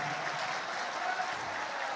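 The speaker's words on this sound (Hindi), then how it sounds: "तालियां बजाइए आप" Steady crowd applause at a university ceremony in Karondi, a dense unbroken wash of clapping from a large audience holding at an even level throughout.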